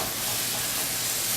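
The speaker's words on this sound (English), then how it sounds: "But I'm dry frying this without oil" Pork dry frying in a pan with no oil sizzles in a steady, loud, broadband hiss that holds evenly throughout, close up and with no voices over it.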